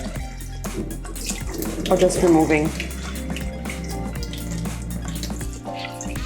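Tap water runs into a pan to rinse rice for palak paneer, a steady splashing stream in a home kitchen with a brief louder gush, heard under a person's voice as they talk while cooking.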